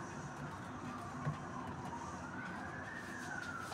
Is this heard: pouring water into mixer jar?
no